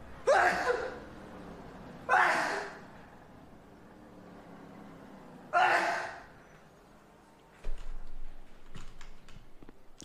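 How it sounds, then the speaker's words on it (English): A grown man lets out three loud, abrupt sneezes spaced a few seconds apart, followed by a quick flurry of computer keyboard clicks. "I'm getting to that age where I'm beginning to get those dad sneezes"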